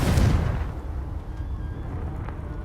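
A fire-spell explosion in the video game Hogwarts Legacy: a loud booming burst at the start that quickly fades into a low rumbling tail.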